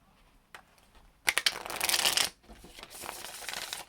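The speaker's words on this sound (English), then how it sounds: "I'm going to use the Aquarian Tarot to pull some clarifiers." Aquarian Tarot deck being shuffled by hand, a soft tap followed by a crisp riffling burst of cards and then lighter shuffling, close and without talk.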